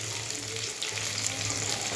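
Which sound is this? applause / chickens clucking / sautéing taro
sautéing taro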